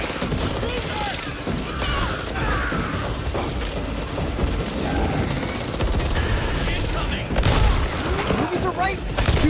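Back 4 Blood gunfire crackles in rapid bursts and scattered single shots amid booms and game noise, loud and close, with a player's voice talking over parts of it.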